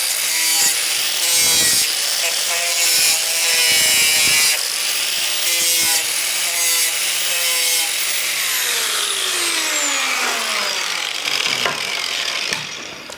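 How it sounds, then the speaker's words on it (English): Flat grinding disc smoothing a wooden surface, loud raspy abrasive scraping in repeated passes with a high whining motor pitch that winds down near the end. "now I'll just take my my flat disc, grinding disc, and just kind of smooth it down a little bit"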